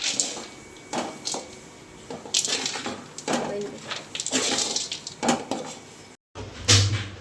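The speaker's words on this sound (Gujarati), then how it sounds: "હવે આપણે આમાં બધા ડ્રાયફ્રૂટ આ રીતે નાખી દઈશું અને હવે આપણે આને એકદમ મિક્સ કરી લેવાના છે." Dry fruits are stirred into thick khajur pak in a pan, making repeated close scrapes and knocks of a spoon against the pan, with a brief silent gap near the end and faint background sounds.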